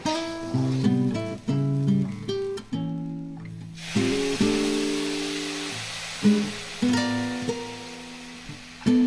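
Water is poured into a pan of fried rice, setting off a sudden loud sizzle that settles into a long fading hiss beneath background music.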